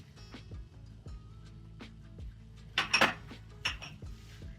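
Coriander, green garlic and green onion are mixed into a warm suran (elephant foot yam) samosa filling, with a spoon clinking and scraping against a metal pan in rhythmic strokes and a brief louder burst of clatter.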